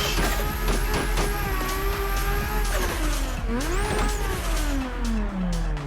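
A sim racing video game car's engine revs and surges after a foot slips off the clutch, the pitch sweeping down then climbing and falling away, loud and continuous alongside game and road noise.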